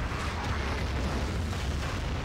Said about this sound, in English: Artillery is going to land from Med, but it's going to be a TK onto Tomix